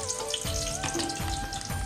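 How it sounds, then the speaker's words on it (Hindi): Onions frying in a pan over a lowered gas flame, a steady close crackling sizzle with some clinking and stirring throughout, no voices. "गैस को थोड़ा कम कर देता हूँ और प्याज डालता हूँ"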